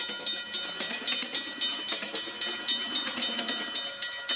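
A train rolls past a railway crossing with a dense, steady rumble and rattle of cars, faint whistle tones on top, continuous throughout without speech.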